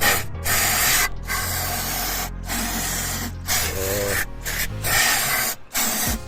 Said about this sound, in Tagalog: So sige, pagpatuloy ko lang yung pag-spray kasi mahirap para mapukusan natin yung spray ng kanyang solenoid.